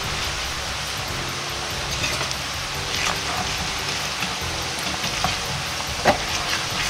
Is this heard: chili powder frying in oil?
yes